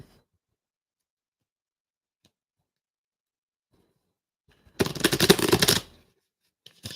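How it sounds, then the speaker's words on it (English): A single quick riffle of a tarot deck, about a second of dense crisp fluttering, rises out of near silence, with a few faint clicks before and after. "Shuffle my deck."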